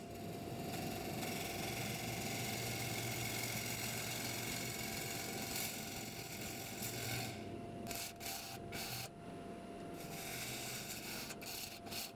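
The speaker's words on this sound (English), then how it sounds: "finally we're back on the lathe and I can start turning again" A wood lathe spins a cherry log while a tool turns it, a steady rubbing scrape over a constant motor hum for twelve seconds, close and fairly even with brief dips near the end.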